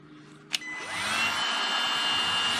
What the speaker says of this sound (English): This is a heat gun, so this pulls some serious current.